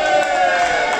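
A crowd cheers and applauds for performers Raquel and Tony at a live stage show, a loud, continuous wash of clapping and voices filling the whole brief moment.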